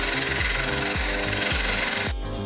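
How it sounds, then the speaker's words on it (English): A drill fitted with a nylon abrasive wheel carves foam insulation in a camper build, giving a loud grinding buzz with rhythmic pulses about twice a second, close up, with no speech. "I used a nylon abrasive wheel on my drill to help carve it out"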